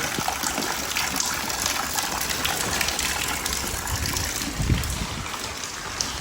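Heavy rainwater gushing down from a roof drain spout, a loud continuous rushing splash close by with steady broadband roar and no pauses.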